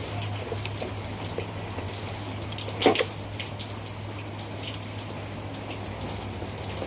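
Steady, dense rain patters continuously in the background along with a low constant hum, broken by one brief louder splash.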